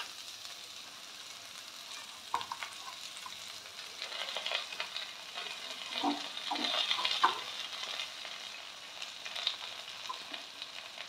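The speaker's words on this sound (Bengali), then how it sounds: "পুঁই শাকের পাতাগুলো এবার দিয়ে দেবো।" Malabar spinach leaves fry in a hot pan with mustard oil, a steady soft sizzle close by, swelling mid-way with scattered stirring scrapes and crackles.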